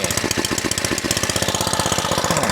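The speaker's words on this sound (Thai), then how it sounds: "หลังจากที่เราสตาร์ทเครื่องติดแล้วนะเราก็ปิดโชก เครื่องยนต์ก็จะทำงานปกติเลยนี่" A small, lightweight gasoline engine runs steadily right after starting with the choke closed, giving a loud, close, rapid pulsing chug at an even rhythm with no talk over it.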